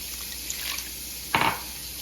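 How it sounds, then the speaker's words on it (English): A short burst of water splashing and pouring into corn flour dough for pupusas, lasting a fraction of a second against a quiet background hiss. "I'm going to add another cup of water"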